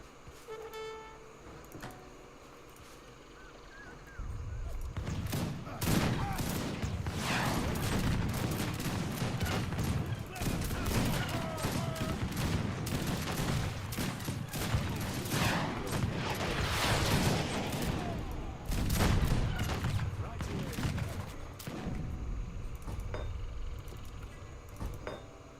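Massed musket volleys crackle in Age of Empires 3, a dense, sustained fusillade of overlapping shots that swells loudly after a quieter opening and keeps rolling in bursts for most of the stretch.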